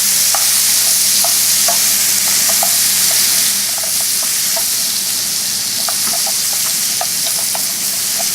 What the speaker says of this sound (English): We stir this really good